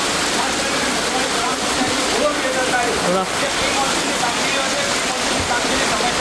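Floodwater from heavy rain in Nasvadi surging into shops and homes, a steady loud rushing wash of water with no break, sounding close.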